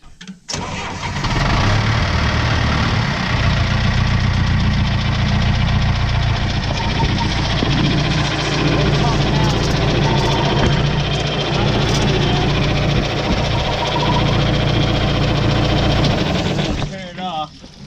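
A John Deere 310A backhoe's engine cranking over and catching, then running at a steady loud idle with a rough mechanical knock, close up and unbroken until it cuts near the end.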